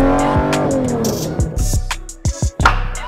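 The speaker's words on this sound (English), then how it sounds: "200 miles an hour in a Lamborghini" A Lamborghini Diablo SV engine revs hard and accelerates, its loud, close, raspy note climbing and dropping through quick throttle changes with sharp pops and bursts.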